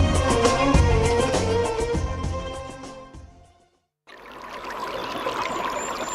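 Water pours steadily in an advertisement for purified water, a full splashing stream that fades into a short silence. A lighter, hissing flow follows.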